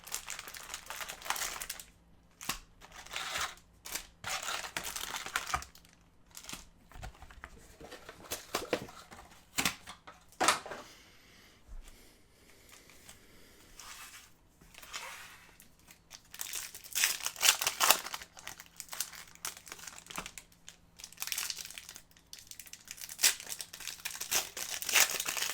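A trading card box, a 2025-26 Upper Deck Parkhurst box, is cut open and its wrapping torn, giving soft crinkling, ripping and scratchy bursts up close, separated by quiet gaps.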